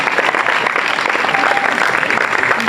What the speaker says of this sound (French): Je vais les applaudir.